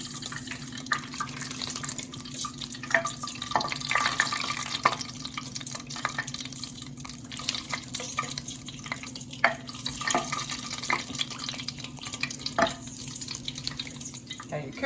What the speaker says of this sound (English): I'm just putting it through a metal colander. Catching all the extra fat.